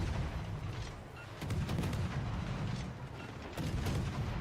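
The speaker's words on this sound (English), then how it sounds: "it's the Preußen shells that actually hit me. All of them." Warship guns boom and shells land in World of Warships: Legends, several heavy low thuds and rumbling impacts in quick succession, loud and close with no talk over them.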